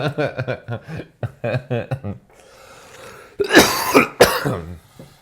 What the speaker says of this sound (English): Sorry, it's my mystery fog cough